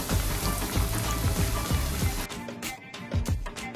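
KFC-style chicken pieces frying in very hot cooking oil over a high flame give a dense, steady crackling sizzle, loud and close throughout, briefly easing near the end.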